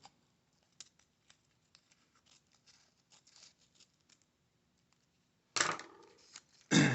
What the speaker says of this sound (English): I'm going to cut my masking tape down the middle